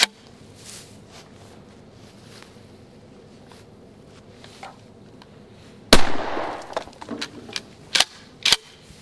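A 12 gauge shotgun firing 3-inch shells outdoors, one loud sharp blast followed by a few smaller clanks and clicks from the action, close up, with no talking.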